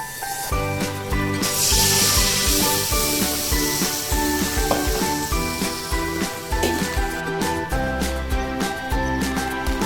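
Ground masala water is poured into a hot pan for eggplant bharit, raising a loud steady hiss and sizzle that swells early and continues bubbling with clinks and tonal ringing throughout.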